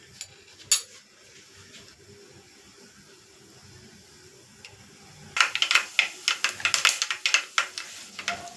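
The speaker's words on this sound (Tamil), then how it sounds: "கடுகு நல்லா பொரிஞ்சு வருது" Mustard seeds splutter and pop in hot oil for tempering a curry, a quiet lead-in giving way to a burst of rapid, crackling pops.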